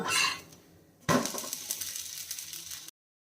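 Ragi and horsegram dosa flipped on a hot pan: a soft scrape and clatter of the spatula, a sharp thump as it lands, then steady sizzling that stops abruptly.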